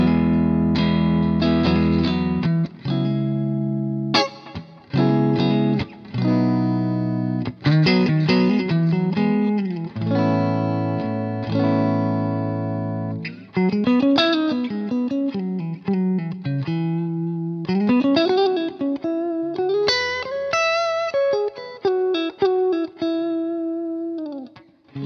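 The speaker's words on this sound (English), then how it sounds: "So first of all, I've got the Creamback neodymium speaker in the Grossman cab, and it sounds like this." Clean electric guitar played through a Celestion Neo Creamback neodymium speaker in a Grossman cabinet, a steady run of picked notes and chords with some vibrato, loud and close for about 25 seconds, with no talking.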